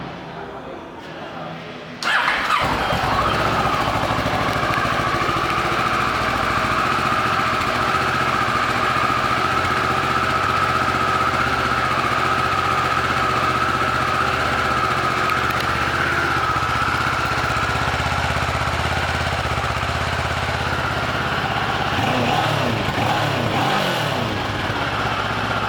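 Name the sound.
2009 Kawasaki ER6N motorcycle engine running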